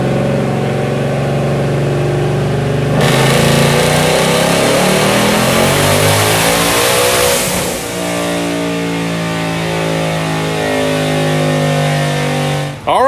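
Hellion twin turbo Mustang on a dyno, idling then sharply revving into a long, loud climbing pull that rises steadily in pitch, dropping back to a rumbling idle near the end.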